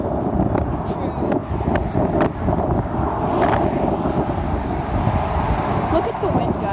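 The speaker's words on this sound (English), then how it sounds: "Look at the wind, guys." Strong gusts buffet the microphone outdoors in a steady, rumbling roar that continues throughout, loud and close, with people talking faintly underneath.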